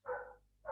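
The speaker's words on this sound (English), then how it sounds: "Sorry about my dogs, guys." Two short barks from a dog indoors, a sharp first one followed by a briefer second, fairly faint against a quiet room.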